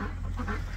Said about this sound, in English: And boy, those birds are loud.